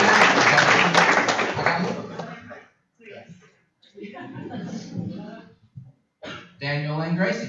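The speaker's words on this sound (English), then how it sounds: "So one more round of applause" Audience applause at a Fannin County school board of education meeting, a loud sustained round of clapping that fades out, followed by scattered talk from people in the room.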